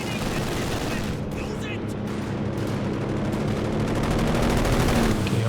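Strafing-run gunfire from Company of Heroes 2, a dense loud barrage of rapid shots over constant battlefield rumble, with talk running beneath it throughout.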